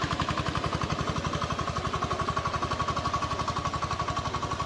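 A tractor engine runs steadily in a Konkan rice field during paddy transplanting, a low rhythmic chugging that pulses evenly and stays fairly quiet and unchanging throughout.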